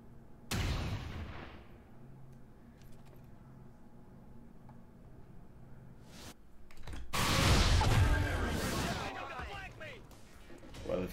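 Single gunshots from the XCOM 2 video game, a sharp loud report near the start and a heavier burst of gunfire with rumbling aftermath later, separated by quieter game ambience.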